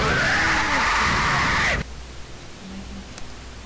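A loud, sustained shriek from the Slender: The Survivors horror video game, harsh and noisy for almost two seconds before cutting off abruptly into quiet background hiss.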